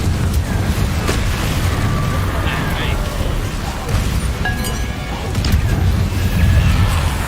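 Confringo spell blasts go off in the video game Hogwarts Legacy, booming fiery explosions and crashes in a busy combat soundscape, with a voice talking partway through.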